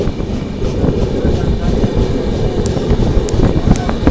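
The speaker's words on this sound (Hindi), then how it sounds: "ये है आपकी लोकोमोटिव भाई, कोई ट्रेन नहीं थी, लोकोमोटिव थी।" A locomotive running alone, with no coaches, passes alongside a moving passenger train, a loud, steady rumble with rushing wind that holds throughout.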